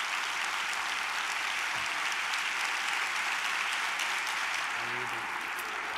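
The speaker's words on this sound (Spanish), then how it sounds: "les brindamos con mucho orgullo un aplauso porque van con nuestra camiseta" Crowd applause for athletes at a government report ceremony, dense and sustained clapping at steady loudness throughout, with faint voices underneath.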